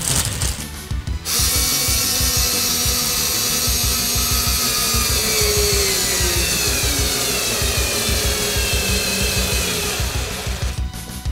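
A screw is driven in to fix a PS2 shelf extension, a loud continuous grinding ratchet-like whir of a power driver biting into wood, steady for about ten seconds between brief pauses.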